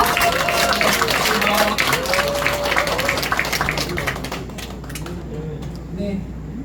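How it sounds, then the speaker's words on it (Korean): An indoor audience at a party members' day talk event in Cheongju applauds to welcome two speakers. The clapping is loud and dense at first, then thins and fades, with faint voices underneath. "여러분 다시 한번 큰 박수로 두 분을 환영해 주시기 바랍니다."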